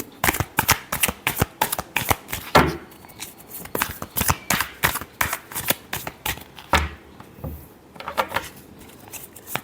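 Tarot cards being shuffled close by in a steady run of quick riffling bursts and soft slaps for nearly ten seconds, with no talking.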